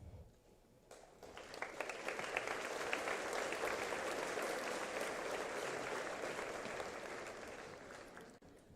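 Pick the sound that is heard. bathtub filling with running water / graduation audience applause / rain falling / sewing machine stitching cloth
graduation audience applause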